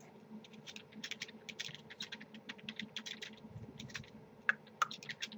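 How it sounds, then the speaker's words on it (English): Someone types on a computer keyboard in quick, uneven bursts of soft key clicks, close and fairly quiet, with a couple of sharper taps near the end. "Sorry, I stink at typing."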